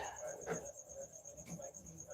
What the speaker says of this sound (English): We released crickets into her cage.